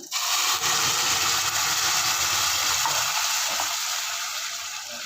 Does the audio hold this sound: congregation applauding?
no